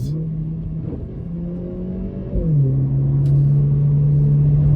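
A Mercedes-Benz A45s AMG hatchback, 2020 model, accelerating hard: a loud, close engine drone rises in pitch, dips at a gear change, then climbs again and holds strongly, with no talking.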